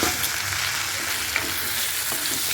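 Tomatoes sautéing in a hot pan for spicy kara chutney, a steady close sizzle and crackle throughout with occasional faint stir sounds, no talking.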